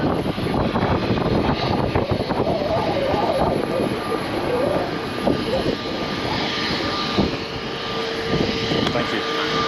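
A 22-year-old Dornier 328 jet's engines roar as a steady, loud whine and rumble from aboard or beside the aircraft, with voices faintly audible beneath the continuous engine noise.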